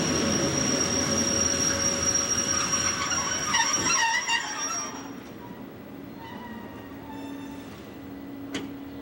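A train starts its climb up a mountain in Switzerland, with wheels squealing sharply and steadily over loud rolling rumble for several seconds, then the noise eases to a quieter hum broken by a brief sharp screech near the end.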